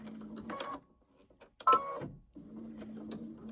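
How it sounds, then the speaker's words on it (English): Home sewing machine stitching a half-inch seam on a quilted hoodie, running in short steady buzzing bursts with a brief clunky pause and mechanical clack as it reverses to back stitch, then resuming close and clear. "let's back stitch a little and around we go."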